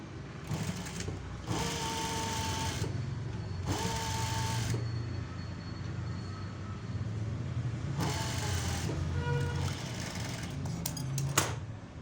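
A sewing machine edge-stitches fabric in short bursts, its fast mechanical whir starting and stopping several times with quiet pauses between runs, close and fairly soft.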